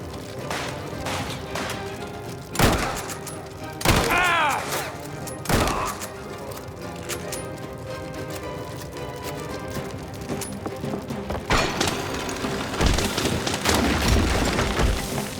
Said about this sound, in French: Grenade! Dégagez!